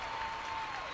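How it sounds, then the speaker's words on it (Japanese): Applause in a concert hall after an orchestra performance, a faint, dense and steady patter of many hands clapping. "ホールでは拍手の音がまだ嵐のようになっています。"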